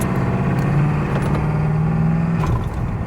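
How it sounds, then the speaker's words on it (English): A 1991 Ford F250 engine idling with a steady, loud, close rumble and a slight wavering in speed. "Yeah, you got rev hunting. That means the TPS is out of alignment."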